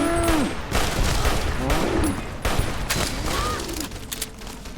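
Gunfire in the video game Fallout: New Vegas comes as loud bursts of shots and booms mixed with other in-game sounds, heard close and fairly sustained over a few seconds.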